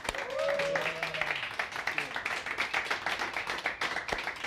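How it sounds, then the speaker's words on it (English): A crowd claps and cheers to welcome bartender Davide at a honkaku shochu and awamori cocktail contest held at The Londoner hotel. The clapping is dense and steady for the whole stretch, with voices and other sounds mixed in, especially near the start. "Big applause for Davide, please"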